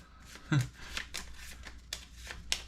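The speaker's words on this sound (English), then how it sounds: "Here we go with this shuffle, shuffle, shuffle." Playing cards shuffled by hand for a tabletop wargame campaign, with a soft riffle, scattered card flicks and taps, close and fairly quiet.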